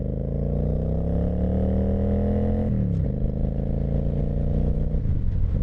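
A Honda VT1100 Shadow Ace motorcycle engine runs loud and close with a deep steady rumble, pitch rising slightly as it revs, then dropping briefly before settling back into a throbbing idle.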